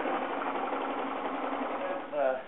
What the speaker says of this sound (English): I'm going to very quickly pass this underneath the sewing machine a couple of times.